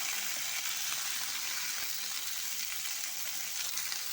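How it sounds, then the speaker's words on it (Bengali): Moringa drumstick leaves stir-frying in hot oil, a bright continuous close sizzle with soft stirring, steady from start to finish with no voices. "সজনা পাতাকে দিয়ে এবার ভালো করে নেড়ে চেড়ে একদম সেদ্ধ মতো নরম করতে দিয়ে নেবো"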